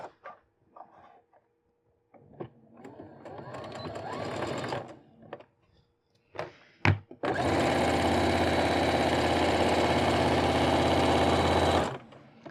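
A sewing machine stitches close to the piping of a hooded scarf, with short stop-start bursts of whirring followed by a long, loud, steady run of rapid mechanical stitching.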